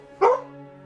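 A single sharp bark from a guard dog reacting to a car going past outside, close and loud, with a short tonal tail fading into a quiet indoor background.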